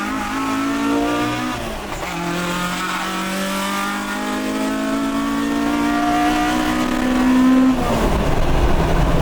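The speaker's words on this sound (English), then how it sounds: "so I can hear the ITBs banging off the wall" A Toyota AE86 four-cylinder engine with individual throttle bodies revs hard and climbs steadily in pitch, loud and close, with a rasping intake howl.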